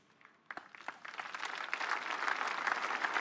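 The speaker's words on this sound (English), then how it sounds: "That clap is not enough." An audience at a church healing service breaks into applause that starts with a few scattered claps and swells into steady, dense clapping, moderately loud.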